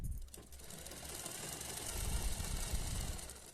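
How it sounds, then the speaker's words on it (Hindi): A sewing machine stitches a patiala salwar, its motor whirring in a steady, close, continuous run with a low mechanical rattle and no voices. "उसके बाद ऊपर से एक सिलाई लगा लेंगे"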